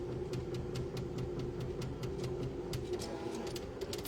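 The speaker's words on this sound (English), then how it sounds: "can hear the 3D printer in the background" A 3D printer runs steadily in the background of an indoor room, a continuous low mechanical hum with faint repeating ticks and small clicks, with no one speaking.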